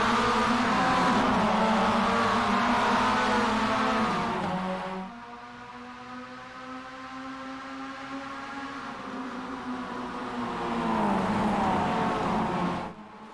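A pack of Mazda MX-5 race cars at Sebring roars away from a standing start, many engines revving loudly together with rising and shifting pitch, dipping briefly as gears change, then climbing again as the field accelerates.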